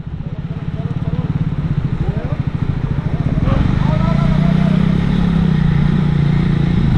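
A motorcycle on a mountain trail in Zanskar, Ladakh pulls away in first gear with a close, loud, throbbing engine that steadily builds in revs, while people shout over it.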